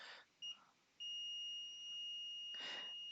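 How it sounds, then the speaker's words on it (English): A multimeter sounds a continuity beep as its probes bridge ground and a pad on a PS4 Phat SAA-001 motherboard: a steady, clear tone held for about two seconds, with a short blip before it. "we should have a beep"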